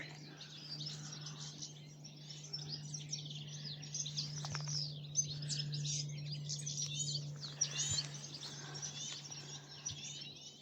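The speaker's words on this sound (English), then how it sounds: "There's a goldfinch right above me, up in this tree." Goldfinches call and twitter in a tree overhead on a nature walk, giving a dense stream of bright chirps and trills that carries on throughout over a steady low hum, with no talking.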